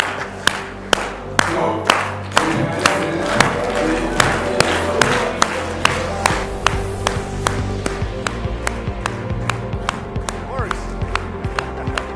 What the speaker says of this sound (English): Let's get up, let's clap one more time.